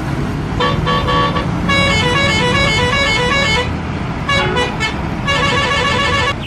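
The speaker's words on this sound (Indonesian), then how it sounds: "Ada truk tangki." A toy tanker truck plays a series of electronic horn toots in short tonal bursts with brief gaps between them, loud and close over a faint background hum.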